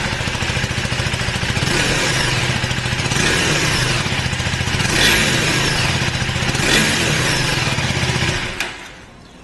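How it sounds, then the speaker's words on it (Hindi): A 2025 KTM 390 Enduro R motorcycle's single-cylinder engine revs through its underbelly exhaust, a loud, close, steady buzzing drone with slight throttle swells that cuts off near the end, no talk over it. "And this is how it sounds, underbelly exhaust मिलता है।"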